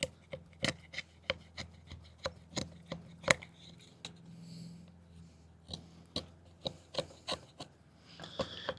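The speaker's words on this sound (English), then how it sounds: "I'll stick the knife into the wood, and then I like to drag the wood across the stick" A Turner CNC TJ Sleeve machete dragged across wood to carve fire curls: a series of sharp, rhythmic scraping strokes, close and distinct, with a short softer stretch midway.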